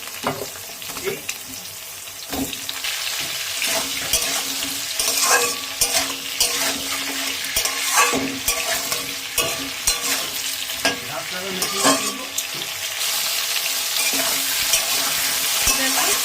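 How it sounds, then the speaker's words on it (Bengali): Potatoes and ridge gourd frying and being stirred in a pan, a steady close sizzle with scraping stir strokes running throughout, no talk. "আলুর সাথে আমি কিন্তু ঝিঙেটা বেশ ভালো করে এখন ভেজে নেব"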